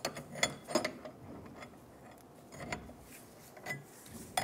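A bushing press being tightened on the control arm of a 1996–2002 Toyota 4Runner, producing faint, scattered mechanical clicks and creaks from the threaded tool, close by and quiet with no speech.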